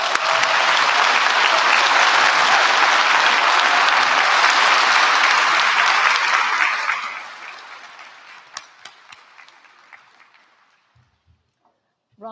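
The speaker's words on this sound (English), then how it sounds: "we give that group a huge round of applause." A graduation audience gives a big round of applause, loud and dense at first, then thinning to a few scattered claps before falling nearly silent.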